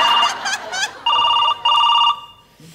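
A telephone rings loudly and close: an electronic ringtone in repeated bursts, with warbling tones at first, then two long steady rings separated by a short gap, before it cuts off.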